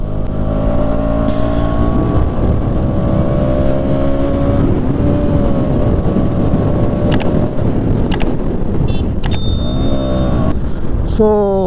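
A KTM Duke 200 motorcycle engine drones steadily while riding, with harmonic tones shifting as the revs rise and fall, loud and constant under wind rush, with a rider's voice talking over it.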